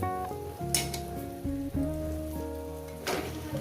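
Masala frying in a pan of chicken and potato curry gives a steady close hiss and sizzle, partly masked by tonal background music throughout.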